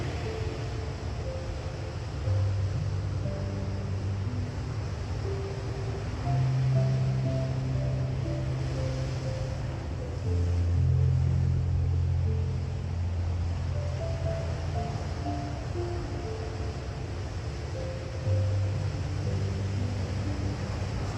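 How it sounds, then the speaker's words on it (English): Ocean waves washing onto a beach, a steady soft rushing wash that holds at an even level throughout, with faint low tones drifting underneath and no voices. "Continue to breathe while you listen to the ocean."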